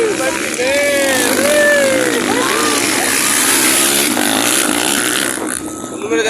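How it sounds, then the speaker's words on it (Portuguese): Motocross motorcycle engines race at Jacaná, a loud, continuous buzzing roar with shifting revs throughout, while a spectator's excited voice keeps calling out over the noise. "Essa moto tá batendo no motor."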